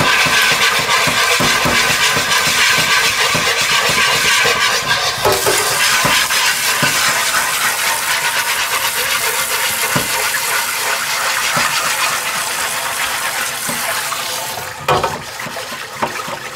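Water poured into a seasoned cast-iron pan to clean off carbon buildup, a steady loud gushing and sizzling wash lasting several seconds, easing off near the end with a few clanks.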